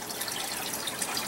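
Steady rush of water moving through a flood-and-drain aquaponic greenhouse setup with a fish tank and sump, a continuous even gushing close by and nothing else audible.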